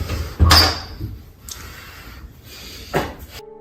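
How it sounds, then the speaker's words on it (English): A room door bursts open with a sharp, loud bang near the start, then fainter creaks and a second softer knock follow in an otherwise quiet room. "there's a loud bang, and the room door suddenly opens."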